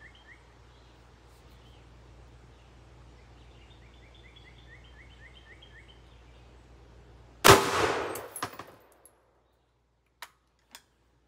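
A single sharp .300 Blackout gunshot firing a Hornady 180 grain Interlock bullet into a ballistic gel block, loud and close, breaking a quiet outdoor background with faint birdsong and followed by a couple of small metallic clinks.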